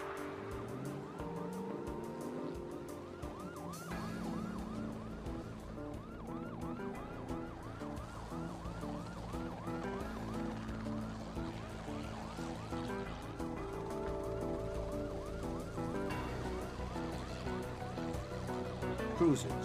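Police car sirens wail steadily through a high-speed chase with cruisers and a helicopter pursuing a shooter's truck, the rising and falling tones layered over a dense, loud mix of engines and dramatic music throughout.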